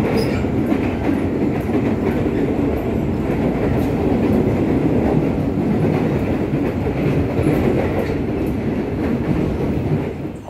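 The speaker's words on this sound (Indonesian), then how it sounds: "jam 5:10 kereta kita diberangkatkan menuju stasiun Bogor" A steady, loud rumble of the Pangrango train departing toward Bogor station, rolling along the tracks, with continuous rail noise and faint clattering throughout, no voices.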